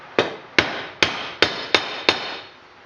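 A 1 1/8 inch, 3/4 drive socket is hammered to drive a part home on a John Deere 455 mower deck: six sharp metallic blows, evenly spaced and close, each ringing briefly before the next.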